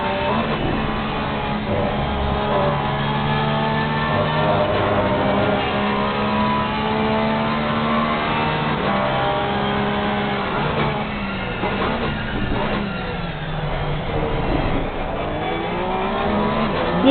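GT3 race car engine heard from the in-car view in Assetto Corsa Competizione, a loud sustained drone rising and falling through gear changes and revs across the whole stretch, with faint tire noise.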